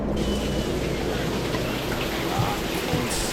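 Heavy rain pours down steadily, a dense close hiss of drops hitting surfaces with no pauses.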